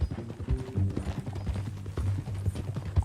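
Horse hooves clip-clop steadily at a walking pace in Red Dead Redemption 2, a close, even rhythm of soft thuds with a faint rattle of tack around them.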